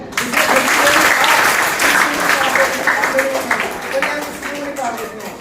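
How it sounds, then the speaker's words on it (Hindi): A crowd of schoolchildren and adults at a school magic show applauds with sustained, loud clapping that tapers slightly toward the end, with voices mixed in. "लेकिन इन दोस्तों की मिसाल लेते थोड़ा तालियां हो जाए"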